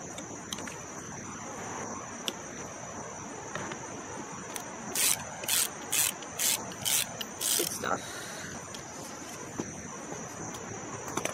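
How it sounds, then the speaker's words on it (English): A long ratchet works at bolts on a 2007 Kia Sedona during AC compressor removal, with a short run of faint rhythmic clicking strokes partway through over a steady background hiss and hum. "I'm using my long ratchet."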